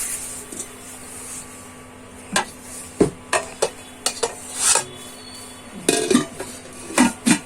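A lid is tried on a large ceramic granite non-stick pot at a trade fair stall, giving a series of sharp clinks and clattering taps that come in irregular bursts over a quiet background hum.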